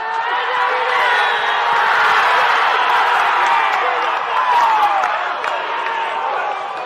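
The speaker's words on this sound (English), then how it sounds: "The crowd has escalated." A big crowd at a Trans Tasman touch rugby open men's match at Ngā Sports Hub, making a loud, sustained roar of cheering and whooping with commentary talk on top.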